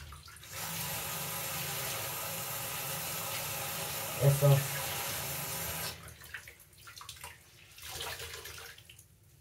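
Running tap water splashes steadily over a small piece being rinsed by hand, then stops abruptly, leaving quieter handling noises; a voice speaks briefly partway through.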